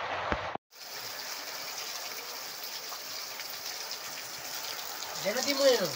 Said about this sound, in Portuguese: Olha aí, a água escorrendo aí, ó. Agora é geral, viu? É chuva, graças a Deus. Muita chuva.